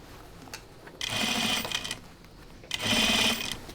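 A sewing machine stitches through denim jeans in two short, loud, rapid bursts about a second long each, separated by a brief pause, with no voices.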